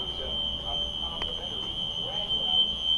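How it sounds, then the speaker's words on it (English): A steady high-pitched electronic alarm buzz drones continuously in a hotel room, with faint background noise and occasional small clicks. "There's some large buzzing sound. It's not my fire alarm, but it could be someone else's."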